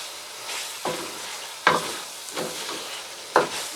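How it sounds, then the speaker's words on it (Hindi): Chicken white karahi sizzles in a pan as it is stirred, a steady frying hiss broken by repeated scraping strokes at a slow, regular pace, heard up close with no talking. "अब हम इसको अच्छी तरह भून लेंगे।"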